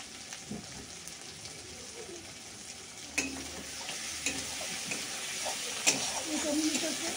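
Tomato sizzles and fries in a pan of shrimp curry as it is stirred, with a steady crackle broken by a few sharp scraping clicks and a voice speaking over it.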